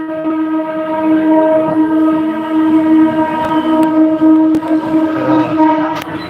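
A train rumbling nearby with a sustained, droning horn tone over the rolling noise, punctuated by a few sharp metallic clanks.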